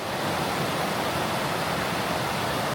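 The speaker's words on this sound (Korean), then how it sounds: "중간중간 물이 얼지 않은 곳에서는 물이 흐르는 소리를 들으며 걸을 수 있었습니다" Steady, dense rush of river water flowing through unfrozen gaps in the ice of the winter Hantan River, a continuous close broadband roar with no voices.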